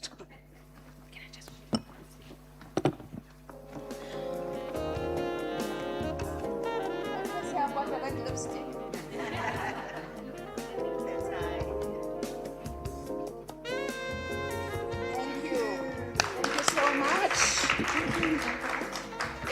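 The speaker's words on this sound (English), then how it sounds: "give my panel a round of applause as they go down" An audience applauds a panel at a Women's Month celebration event, steady clapping building to a louder swell near the end, mixed with background music and a speaker talking over it.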